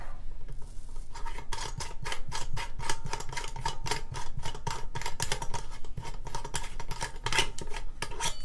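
An AK47-pattern rifle's combination flash suppressor and muzzle brake being taken apart, producing a dense, steady series of close metallic clicks and scraping ratchets with no talking.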